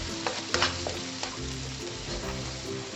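Meat frying in a pan for Malaysian mee goreng, after chili and onion have cooked, with a steady close sizzle and a few scraping stirs and clanks of a utensil near the start.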